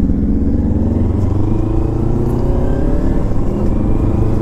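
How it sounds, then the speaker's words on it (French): A Kawasaki Ninja 300, a 300 cc motorcycle, being ridden, its engine droning loud and close with steady rising harmonics as it accelerates, mixed with constant wind rush; no voices. "Alors me voici sur la Kawasaki Ninja 300."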